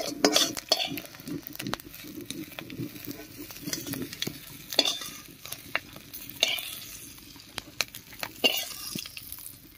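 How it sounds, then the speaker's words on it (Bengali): Green chillies and radhuni seeds fry in a kadai, a soft sizzle under frequent sharp scrapes and clinks of a spatula stirring against the pan, close and irregular, with no voices. "এবারে সামান্য একটুখানি রাঁধুনি দিয়ে"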